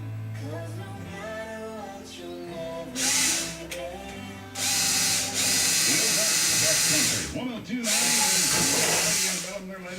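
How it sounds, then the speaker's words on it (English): A power drill whirs in several bursts, its pitch climbing as it bites, with a person talking between and under the drilling nearby. "I drill a hole on the other side"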